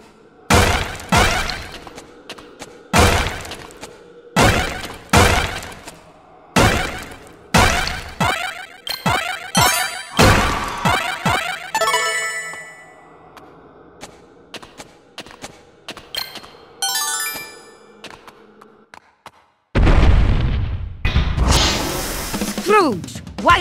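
Cannons fire and crash in DuckTales Remastered, a series of loud, sharp blasts and thuds in a regular rhythm, then broken crashing and a final heavy burst, with game voices among them.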